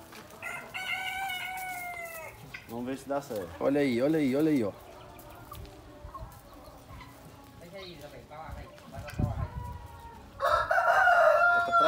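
Free-range chickens on a Brazilian farm, with roosters crowing loudly in several bursts and hens clucking nearby while someone talks excitedly over them.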